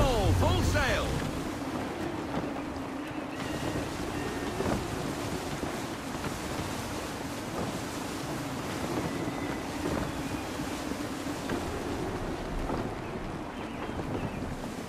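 Gusty wind and sea waves around a sailing frigate in Assassin's Creed III, a steady rushing roar of wind and water that runs the whole time, with voices speaking over it.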